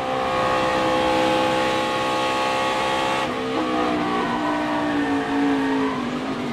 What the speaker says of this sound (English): We'll go in car with him and watch his hands and listen to the throttle.